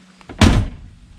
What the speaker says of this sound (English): Doors fit closed nicely.